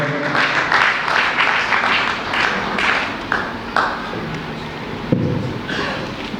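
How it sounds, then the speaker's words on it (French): Congregation in a church applauding and acclaiming the Lord, a dense, steady wash of clapping hands with scattered sharper claps and faint voices mixed in throughout. "On peut acclamer encore le Seigneur."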